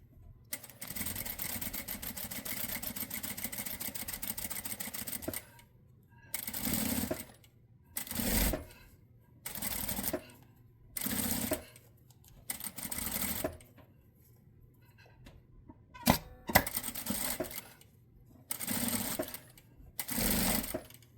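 Sewing machine hemming the binding along the bottom edge of a blouse, running in repeated short bursts separated by pauses, with one long continuous run at the start; close and fairly loud, no voices.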